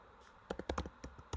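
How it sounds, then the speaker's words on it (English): Typing on a computer keyboard, a quiet pause followed by a burst of close, sharp key clicks in an uneven rhythm, a few quick taps bunched together and then a final pair of strokes. "I'm really knocking the typing out of the park here this morning"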